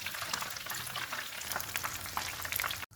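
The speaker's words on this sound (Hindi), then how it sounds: "पकोड़े फ्राई हो गए हैं, इनको निकाल लेते हैं" Chicken pakoras frying in hot oil, a dense continuous bubbling sizzle with fine crackles held at an even level, cutting off abruptly near the end.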